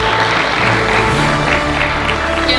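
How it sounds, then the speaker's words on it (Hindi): Audience clapping fills a stage event at an MBA coaching achievers' meet, a dense, steady wash of applause from a crowd with no pauses, fairly loud throughout. "Can you please be louder with your claps?"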